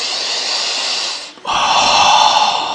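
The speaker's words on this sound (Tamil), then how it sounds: "மூச்சை நல்லா இழுத்து விடுங்க." A slow, deep breath during a guided relaxation session: a long airy inhale, a brief pause, then a fuller, louder exhale, close to the microphone.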